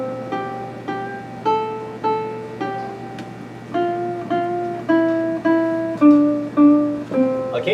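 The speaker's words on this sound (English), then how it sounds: "I could pick the melody to Twinkle Twinkle Little Star and it would sound like this." Ukulele picking the melody of Twinkle Twinkle Little Star, single plucked notes in a steady nursery-rhyme rhythm, close and clear with no talking, each note decaying quickly before the next.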